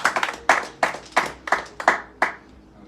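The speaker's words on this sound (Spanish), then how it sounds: "Dele palmas con más ganas." A church congregation claps in a steady rhythmic beat, about eight sharp, close claps spaced roughly a third of a second apart, with no talk over them.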